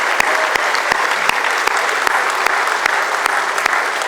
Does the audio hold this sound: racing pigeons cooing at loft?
no